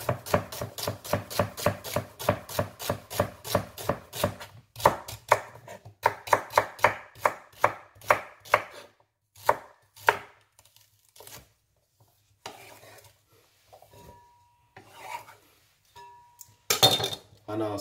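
Celery stalks are chopped on a cutting board: a fast, even run of crisp knife strokes, then slower, scattered chops and a few pauses, close and clear with no talking.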